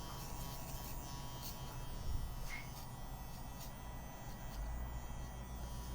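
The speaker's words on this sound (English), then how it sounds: "They're a great clipper without a doubt." JRL electric hair clippers running during a haircut give a steady, close, low buzzing hum that holds even throughout, with faint brief clicks and no talking.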